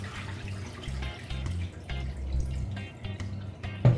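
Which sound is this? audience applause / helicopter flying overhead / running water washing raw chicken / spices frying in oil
running water washing raw chicken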